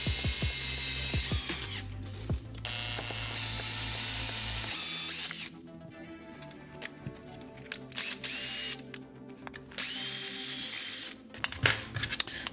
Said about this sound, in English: I'm drilling these holes with a 7/32 width drill bit.